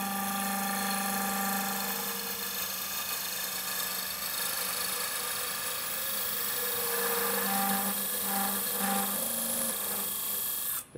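Wood lathe turning a tenon on a wooden three-legged stool leg, a steady close whine of the spinning blank with a bright, rasping scrape from the cutting tool that shifts in pitch near the end.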